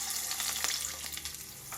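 Pesara punugulu batter, a moong dal fritter mix, fries in hot oil in a village-style pan, giving a soft, steady sizzle flecked with small crackles and pops throughout.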